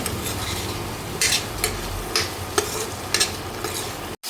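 Chana masala frying in a pan, a dense continuous sizzle broken by repeated scraping stirs of a spoon against the metal, close and fairly loud, with no voices.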